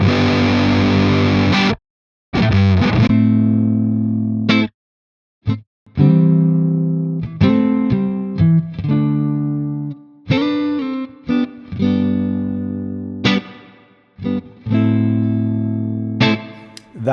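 Electric guitar through a lightly overdriven TONEX amp model, gritty edge-of-breakup chords and single notes played in phrases with short pauses between, loud and up close.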